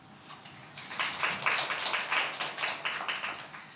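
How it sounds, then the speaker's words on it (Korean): An audience at a Korean science forum claps steadily for a few seconds, a close, continuous patter of many hands, with no voices over it. "예, 박수로 맞이해 주시죠."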